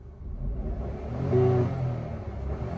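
A Renault Kiger RXZ car engine running, a steady low hum and rumble nearby that swells briefly as the revs rise, then settles back to a smooth idle.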